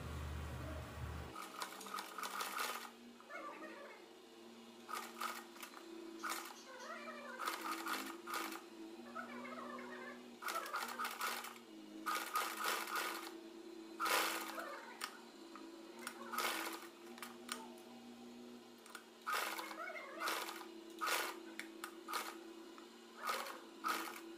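A sewing machine sews the belt strip of a belt saree in quiet, repeated short runs, each a soft rattling whir with ticking clicks and pauses between stitches.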